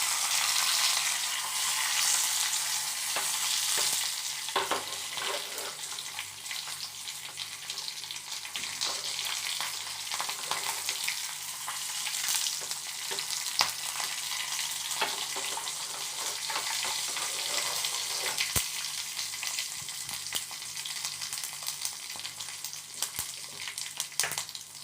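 Spices, curry leaves and slit green chillies crackle and sizzle in hot oil for dhokla tempering, a steady close hiss with scattered pops and sputters throughout, no voices.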